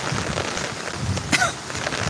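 Heavy rain driven by wind pours down outdoors over farmland, a loud, steady, close roar of hissing downpour with a brief gust partway through.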